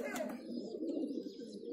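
A highflyer pigeon brought in for breeding coos in short, soft bursts nearby, its low throaty calls running over faint background chatter.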